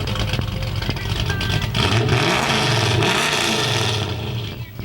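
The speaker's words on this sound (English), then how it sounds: "Rev it up." A hot rod engine revs up through loud pipes, a rough rising roar held for several seconds with faint rattles, close by and dropping away at the end.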